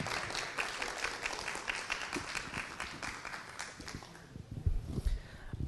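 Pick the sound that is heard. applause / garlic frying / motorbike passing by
applause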